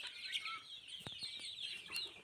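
Country chickens clucking and calling close by, short repeated clucks over a steady bright chatter of birds, with no talking.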